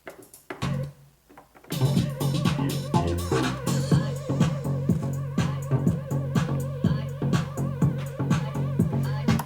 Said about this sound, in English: Like I said, a nice dirty bass line.